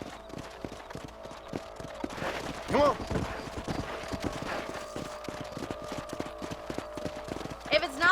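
A horse's hooves clip-clop at a walking pace in Red Dead Redemption, a steady rhythmic patter beneath someone briefly speaking and a few sharp game sounds.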